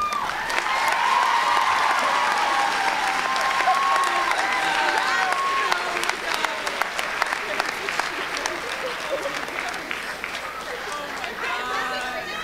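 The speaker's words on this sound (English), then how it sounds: "they need another round of applause up here" An audience at a writers' event bursts into applause with cheering and whoops, loud at first with voices calling over the clapping, then settling into steadier clapping that gradually thins.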